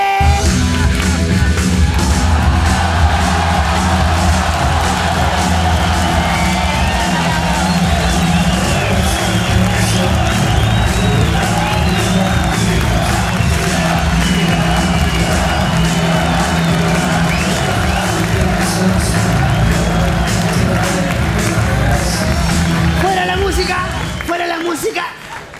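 A comedy show audience cheers, whoops and yells loudly in a dense, sustained roar, with some applause. The noise lasts nearly half a minute before dropping off abruptly at the end.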